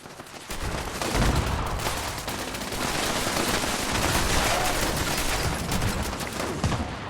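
Legendary weapon fire in Fallout 76, a sustained, dense stream of rapid shots and impacts that carries on for several seconds at a moderate, steady loudness.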